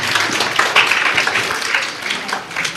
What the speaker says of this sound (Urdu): زوردار تالیوں کے ساتھ بچیوں کی ہمت افزائی کیجیے